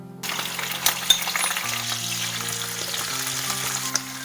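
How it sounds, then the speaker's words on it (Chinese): Chopped chili sizzles in hot oil in a wok over medium-low heat, a steady close frying hiss with a few clinks and scrapes of stirring, while faint background music plays throughout. "中小火把这个剁椒炒香"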